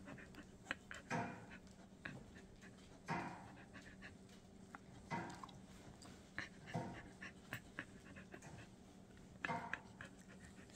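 A Staffordshire bull terrier pants from anxiety, with close, quiet, rhythmic breaths that rise in short bursts every second or two and carry faint whimpery edges.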